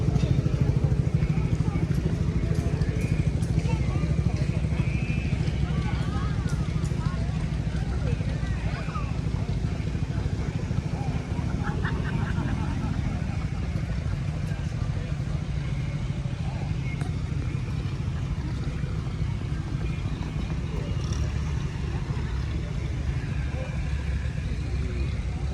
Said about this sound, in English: Man, it's a big tractor.